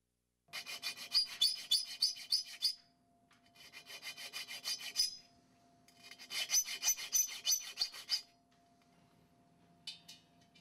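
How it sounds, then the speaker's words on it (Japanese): A metal file rasps against a cut-out openwork piece of bonded two-colour alloy for inlay work, in three long bursts of quick scraping strokes with a short fourth burst at the end, close and alone. "はめ込む文様に合わせてヤスリをかけ、 穴を広げすぎないように注意して少しずつ広げていきます"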